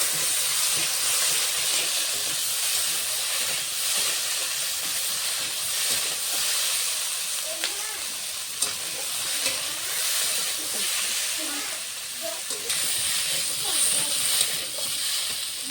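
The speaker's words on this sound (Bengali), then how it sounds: "ঢাকনাটা খুলে সবজিটা ভালো করে ভেজে নেব" Potato and cauliflower frying in an uncovered pan, giving a steady close hiss of sizzling oil throughout with occasional faint clicks and light utensil sounds.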